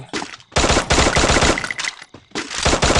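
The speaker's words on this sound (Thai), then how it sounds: "มันยิงยิงผมแล้ววะมันยิงผมแล้ว" Automatic gunfire in the mobile shooter Free Fire: loud, close rapid bursts that fill most of the moment, broken by one brief pause before a final burst.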